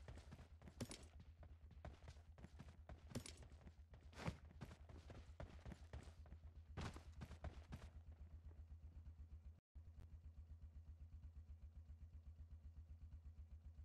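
A vehicle engine idling in the video game PUBG Mobile, a low steady pulsing hum that runs throughout, with sharp intermittent clicks and taps over it in the first half.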